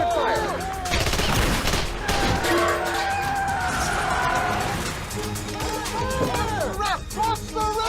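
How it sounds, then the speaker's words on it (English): Gunfire erupts in a movie scene at a roadblock, with bursts of shots and crashing impacts over shouting voices and a busy, loud action soundtrack. "Get up there! Open fire!"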